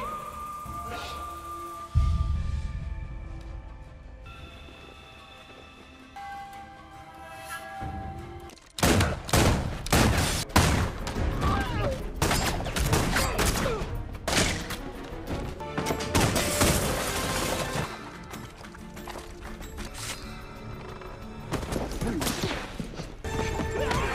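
Gunfire erupts in a cowboy film battle, with rapid bursts of shots, crashes and horses' hooves and neighing, building from a quieter opening into dense, loud, continuous volleys.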